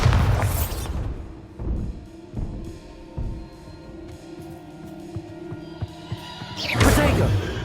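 Bombarda explosion spell cast repeatedly in Hogwarts Legacy, with heavy booming blasts at the start and end of the clip and scattered thuds and rumbles in between, loud and close.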